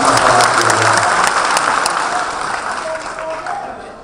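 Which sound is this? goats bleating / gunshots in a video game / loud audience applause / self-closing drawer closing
loud audience applause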